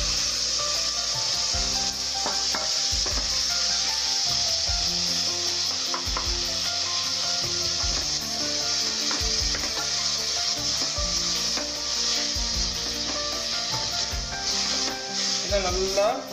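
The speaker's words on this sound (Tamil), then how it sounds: "இந்த தக்காளியை இதில் போட்டு வதக்கணும்" Chopped tomatoes sautéing in a pan while cooking biryani, a steady sizzle with stirring scrapes and clinks throughout, with background music running underneath.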